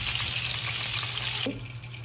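Nuts frying in a wok: a dense, even sizzle of hot oil fills the clip, dropping slightly in level near the end as something is moved in the pan.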